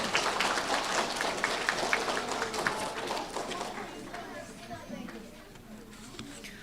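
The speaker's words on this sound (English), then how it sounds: "Let's give them a round of applause." Audience applause for third grade students at a quarterly school awards ceremony, a dense patter of clapping with chatter mixed in, strongest at first and tapering off gradually.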